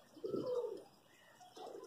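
A pigeon coos softly twice, a low throaty burble, then a brief pause before the second call, close by and quiet.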